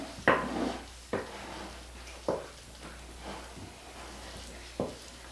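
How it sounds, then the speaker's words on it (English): Milk is stirred into chocolate pumpkin bread batter in a bowl, a spoon knocking and scraping the side in slow, gentle strokes roughly once a second, soft thuds and rubbing close by over faint room hiss. "you just want to stir it in"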